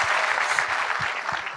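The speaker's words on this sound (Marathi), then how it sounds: "या दोघांसाठी टाळ्या वाजवा एकदा" Brief burst of audience clapping at a standup comedy show, loud and continuous, with a voice faintly underneath.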